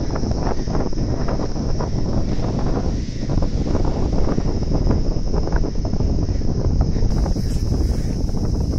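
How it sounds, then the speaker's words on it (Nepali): Strong wind roars steadily across the microphone at the Sarangkot view tower in Pokhara, Nepal, a loud continuous buffeting rumble with no pauses. "टावरमा चाहिँ खतरा हावा चलिरहेको छ।"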